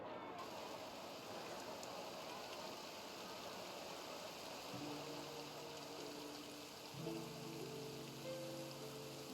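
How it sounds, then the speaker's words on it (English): Steady rain falls in the video game Genshin Impact, a constant broadband hiss running through the whole stretch, with soft game music tones entering partway and no talk over it. "Looks like rain."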